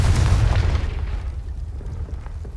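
A Confringo fire spell blast in the Hogwarts Legacy video game: a deep, loud booming explosion that rumbles and fades over a couple of seconds, heard alone without speech.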